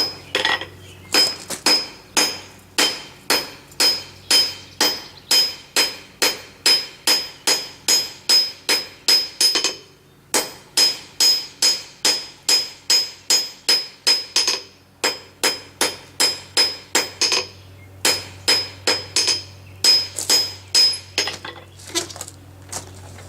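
Hammer blows flatten a rusty nail on an anvil during forging, a long steady series of loud ringing metallic strikes close by, broken by two brief pauses, with no speech.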